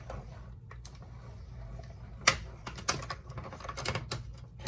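Crank handle turned to roll paper through a manual die cutting machine with a stitched rectangle die, giving a run of quiet clicks and ratcheting ticks with a few sharper snaps, close and fairly soft, with no talking.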